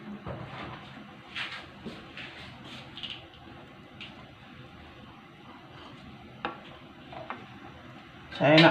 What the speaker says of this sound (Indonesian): Saya nak tumis bawang merah, bawang putih, halia.